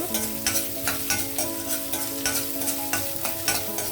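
Lentils and ginger pieces fry in hot oil in a pan for upma, a steady close sizzle broken by repeated scraping stirs at a regular pace, with no voices.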